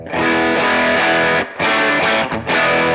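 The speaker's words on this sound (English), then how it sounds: "you can hear for yourself how much distortion gets reduced as well" Electric guitar with a moderately distorted, gritty tone, volume knob rolled down, strummed in sustained chords, briefly cutting out twice between phrases; no voices.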